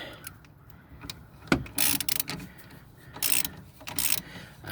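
A castle nut is tightened onto a tie rod end on a 2011 Hyundai Sonata 2.4L GLS. Quiet, near clicks and ratcheting bursts come in short irregular runs, some louder metallic clanks between softer scrapes.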